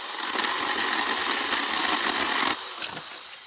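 A small Ryobi 18V 8-inch battery pruning chainsaw whirs steadily while cutting through old, hard sticks, a high motor whine with a brief drop near the end, close and without talk.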